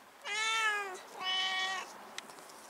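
A cat meows twice, two drawn-out, clear meows close by with a short pause between them, then quiet.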